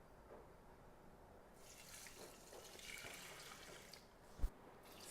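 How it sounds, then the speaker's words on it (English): Water is poured from a tap into a large container to make red yeast rice wine, a soft steady rushing that swells midway, with a brief knock near the end. "And then I'm going to add 6 liters of water."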